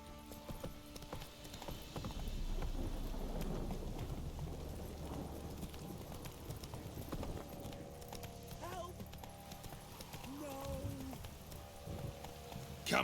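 In a video game, the horse Roach clip-clops on its hooves in a steady, moderate rhythm along with other game sounds, while a person talks over it.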